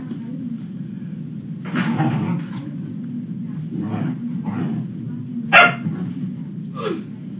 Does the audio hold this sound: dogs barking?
yes